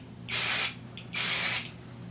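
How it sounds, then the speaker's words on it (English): Two short bursts of texture spray hiss through lifted sections of hair, each about half a second long with a brief pause between them, close and crisp, with no talking. "I'm going to go ahead and just lift sections of my hair and spray this through"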